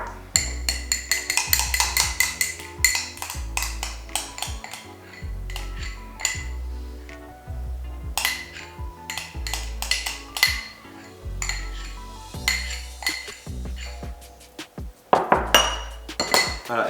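Metal utensil repeatedly clinking and scraping against a dish while transferring bibimbap paste into a smaller bowl, a busy series of sharp close clinks and knocks.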